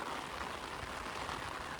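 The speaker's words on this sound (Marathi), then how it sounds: "खूप जोरात पाऊस आलाय, खूप जोरात पाऊस आलाय." Heavy rain falls steadily, a dense, even hiss of drops pattering on surfaces, faint and continuous with no voices.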